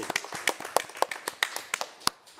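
A small group claps at a city council committee meeting, a sparse, uneven patter of a dozen or so distinct claps over about two seconds, fairly quiet.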